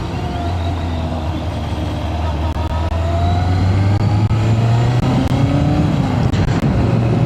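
A motorcycle engine drones steadily while riding, its pitch rising and shifting with throttle under constant wind rush, loud and close throughout.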